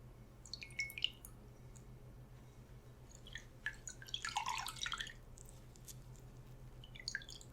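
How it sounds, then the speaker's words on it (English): A spa rag dipped in water gives faint, close drips and wet squishes in a few separate bursts over a quiet background. "I'm going to take this spa rag here that I have, and I'm just going to dip it"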